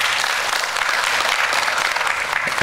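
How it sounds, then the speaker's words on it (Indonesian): Dense, steady applause from a church congregation during an Indonesian-language service, many hands clapping together at full strength from start to finish. "Berikan tepuk tangan dulu buat Tuhan."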